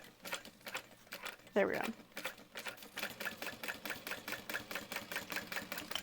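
A sewing machine stitches a seam on a handmade wristlet in quick repeated bursts of needle chatter, with a brief spoken remark partway through.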